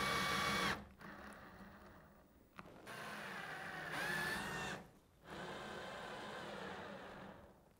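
Drill driving screws to fix a steel angle bracket into an oak mirror frame, several sustained whirring runs broken by short pauses, close but quiet.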